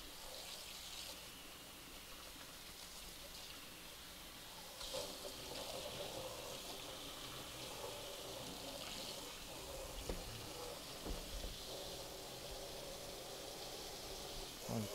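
Running tap water rinses out a garbage disposal in a kitchen sink after a bleach and lemon foaming treatment, a faint continuous splashing trickle that strengthens slightly midway.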